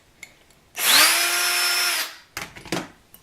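A small black screw is driven out of an Xbox 360 controller with a powered screwdriver, giving one steady whirring burst of about a second, close and loud, followed by a few light handling clicks.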